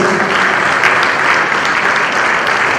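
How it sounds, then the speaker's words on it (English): Loud, steady applause from a large audience greeting the Commissioner for Education at the launch of the Edo State Technical Talent Development Policy, a dense wash of clapping that holds evenly throughout. "Please, with a round of applause"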